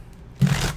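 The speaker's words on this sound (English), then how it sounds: "And one more shuffle here, everybody." A deck of tarot cards is given one quick shuffle, a brief close riffle of flicking cards lasting under half a second after a quiet pause.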